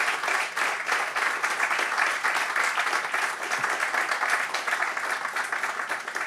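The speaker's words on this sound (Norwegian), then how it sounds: "Ja, det er lov til å klappe." Audience applause closing a Norwegian panel debate on drug reform: a steady, even round of clapping from a sizeable crowd, sustained throughout at moderate volume with no break.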